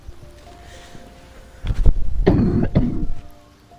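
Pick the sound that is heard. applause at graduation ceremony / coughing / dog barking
coughing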